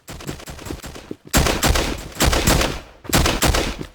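Rapid gunfire from the Virtual Warfighter VR military shooter sim: loud, close bursts of repeated shots filling the clip, broken by a brief pause near the one-second mark and another just after three seconds, with no talking.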